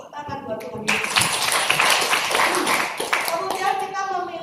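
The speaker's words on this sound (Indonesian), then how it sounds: "Tepuk tangan buat Tuhan Yesus" A church congregation claps hands together in a sustained burst of applause, dense and fairly loud, with a few voices mixed in throughout.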